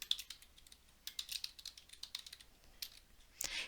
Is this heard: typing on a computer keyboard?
yes